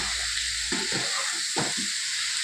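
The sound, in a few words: stir-frying potato, cauliflower and beans in a pan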